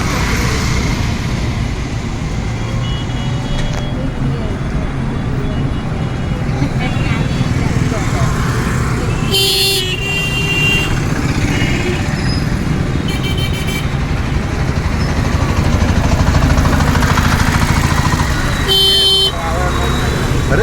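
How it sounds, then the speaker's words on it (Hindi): Busy road traffic in Jagannath Puri rumbles steadily while car horns toot in short bursts now and then, with voices talking over the noise. "हॉर्न कम बजाओ भाई।"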